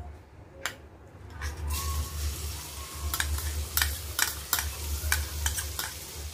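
Garlic sizzles in about five to six spoons of hot oil in a kadai over a high gas flame, a close crackling fry with repeated sharp spatters and stirring scrapes throughout.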